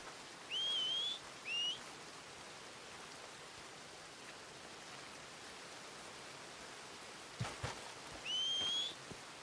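Three short rising whistles for a horse in Red Dead Redemption 2, two close together and one a few seconds later, over a steady rain-like hiss.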